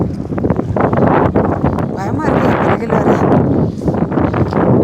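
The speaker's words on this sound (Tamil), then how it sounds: "என்ன காத்து" Strong wind blowing across the open desert of Nubra Valley in Ladakh near a camel ride area, a loud continuous roar buffeting the microphone with people talking over it.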